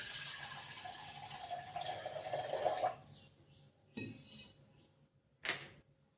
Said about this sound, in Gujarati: ત્યારબાદ પાણી એડ કરશું